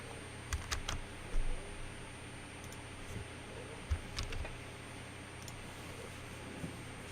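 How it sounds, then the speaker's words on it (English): Computer keyboard typing copy and paste shortcuts: a few quiet, scattered key clicks over a steady background hum, no talking. "I use my keyboard. Control C, Control V."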